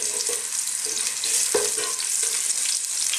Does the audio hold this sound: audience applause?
no